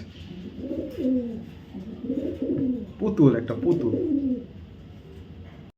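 Racer pigeons, a pair of top-quality Budapest-type birds, coo in low rolling phrases that repeat steadily throughout, close by, with someone talking over them.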